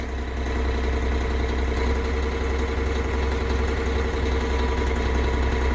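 A John Deere 13.5L diesel engine idles smoothly at 1300 RPM despite low fuel pressure of about 30 psi, giving a loud, close, steady low drone with an even mechanical chatter and no voices.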